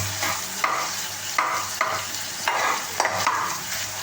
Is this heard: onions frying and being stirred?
yes